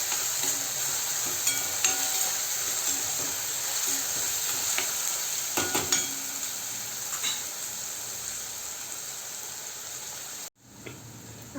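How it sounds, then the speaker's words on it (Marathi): Onions sizzling in a pan as they are fried until reddish-brown, a steady close hiss with a few stirring clinks and scrapes, easing slightly near the end before a brief break. "या कांद्याला छान लाल होईपर्यंत परतून घेऊया"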